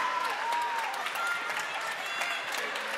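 A crowd applauds steadily in an indoor arena at the women's final of the Australian Floorball Open 2014, a dense even patter of clapping with a commentator's voice over it.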